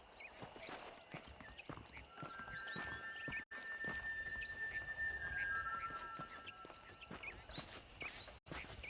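Horse hooves clip-clop at a walking pace in the Western video game Red Dead Redemption, set against a quiet outdoor ambience with chirping birds and a faint whinny, all fairly soft and distant.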